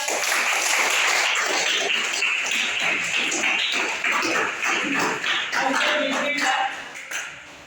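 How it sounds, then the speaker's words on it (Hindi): Students in a classroom break into loud, close applause that stays dense and steady for several seconds before thinning and tapering off at the end. "सबके लिए तालियां हो जाए।"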